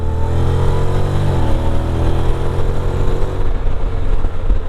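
A Honda Forza 750 scooter engine revs up close and loud, pitch climbing and then settling into a rough, throaty run.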